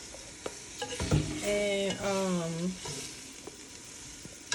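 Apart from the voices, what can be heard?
vegetables sizzling in a pot for vegan gumbo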